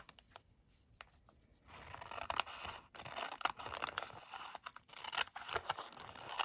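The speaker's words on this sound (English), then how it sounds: "either with your cutter or just with scissors, you're going to cut" Scissors snip and slide through paper along a folded line while making a paper bag insert for a card or journal, a series of close, quiet crisp cuts and rustles with no talk.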